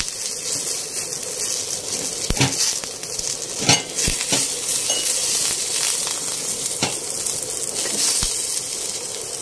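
Fenugreek seeds, black pepper, cinnamon and cloves roasting in a pan make a close, continuous dry sizzle and crackle, with sharp scattered clinks of a spoon against the metal.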